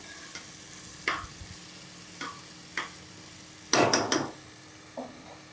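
Moong dal fried in a pan for pongal, with scattered stirring scrapes and a brief louder sizzle-and-clatter burst, close over a low steady background hiss.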